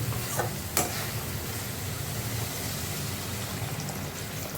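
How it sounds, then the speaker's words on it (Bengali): Spice masala frying in a pan as fish curry is prepared, a soft continuous sizzle with a couple of brief scraping stirs near the start, fairly quiet and with no one talking. "দেখো মশলা প্রায় ভাজা হয়ে গেছে। আর কিছুটা নাড়িয়ে দিয়ে দেবো জল।"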